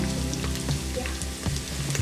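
Onions fry in a pan for dal tadka, a steady close sizzle with small crackles and pops, continuous and moderately loud with no talking.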